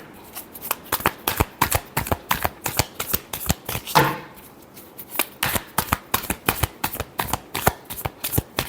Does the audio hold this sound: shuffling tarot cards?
yes